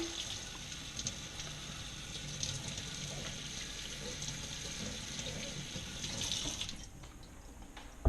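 Tap water runs steadily over a kefir jar lid at a sink, a close continuous splash that eases slightly near the end.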